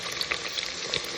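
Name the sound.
onions frying in a pan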